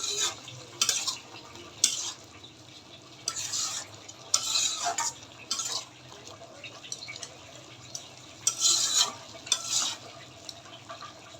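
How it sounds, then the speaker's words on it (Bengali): A blended spice paste stirred into a red bean curry in a pot, with irregular bursts of scraping utensil strokes against the pan over a faint simmer, close by and without speech. "আমি এখন এই যে ব্লেন্ড করা মশলাটা দিয়ে দিচ্ছি এখন একটু ভালো করে মিশিয়ে নেব"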